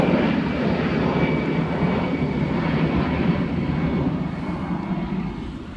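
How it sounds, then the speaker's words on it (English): A propeller or jet airplane roars steadily nearby as it passes over or takes off, a broad continuous engine rumble that fades slightly toward the end, with no voices. "That's just cool watching those planes take off and come in."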